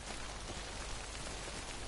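Steady rain hiss from the video game Death Stranding, a dense even patter on surfaces that continues without pause at moderate level, with no talking.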